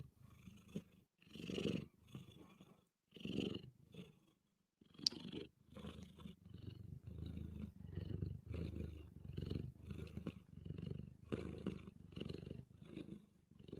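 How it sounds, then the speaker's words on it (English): A cat purring close up, a low rumbling purr in steady rhythmic pulses with brief pauses, continuous and soft for the whole stretch. "Can you guys hear the purring?"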